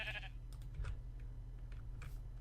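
A sheep bleats in the Minecraft video game, short quavering calls over a steady low game hum, with faint clicks scattered between them.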